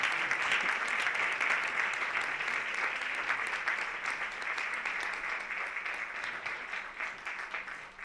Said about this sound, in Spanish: Quería empezar con mi exposición con un fuerte aplauso para Elena